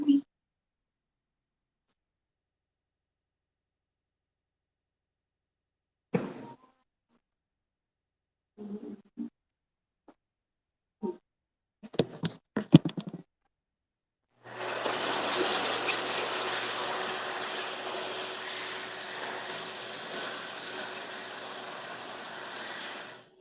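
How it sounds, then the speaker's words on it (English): A toilet's built-in butt dryer blows steadily in a bathroom, a continuous airy whoosh that starts abruptly after scattered clicks and handling noises and runs on alone. "that noise is the butt dryer"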